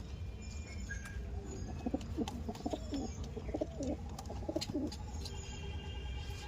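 Pigeons coo softly and repeatedly in a low, rolling rhythm, with occasional wing flutters and faint chirps in the background.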